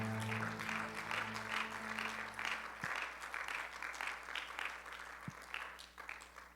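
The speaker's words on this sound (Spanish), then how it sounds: "Denle un fuerte aplauso al Señor." Church congregation applauding after a prayer, dense steady clapping throughout with a low held tone underneath, fading slightly toward the end.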